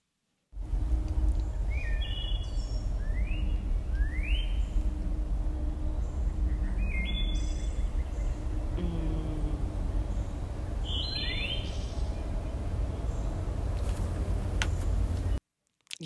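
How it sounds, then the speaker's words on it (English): Played recording of wood thrush song: a series of short, fluting, rising phrases repeated every couple of seconds over a steady hiss of background noise, moderately loud and clear. "the wood thrush, which we're about to hear, is their favorite bird"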